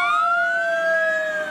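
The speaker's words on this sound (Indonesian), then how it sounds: "Mobil pemadam kebakaran." Toy fire truck siren wailing loudly and steadily up close, a sustained electronic tone with a slight rising pitch, alone without talk.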